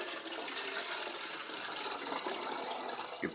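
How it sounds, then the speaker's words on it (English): Water pours steadily from a carafe into the top of a vintage 1980s Black and Decker Spacemaker coffee maker, a continuous close splashing rush with no pauses. "you pour your water in here"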